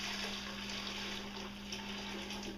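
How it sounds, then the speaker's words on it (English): Hot turkey brine pours steadily into a regular picnic cooler, a continuous broadband watery rush with a low hum beneath it, close and fairly quiet throughout. "we're going to take that brine and we're going to pour it just into a regular cooler"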